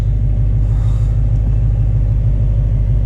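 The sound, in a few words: manual Dodge Hellcat engine revving with launch control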